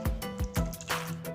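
Rasam stirred in a cooking pot after water is added, giving a few quick liquid swishes and sloshes with soft clinks, close and moderately loud, with no talking.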